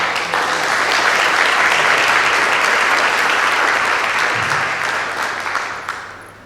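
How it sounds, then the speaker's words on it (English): Audience applause at the Chicago Woman of the Year award ceremony, a dense burst of many hands clapping loudly that swells and then tapers off toward the end. "let's give a wonderful round of applause for our wonderful"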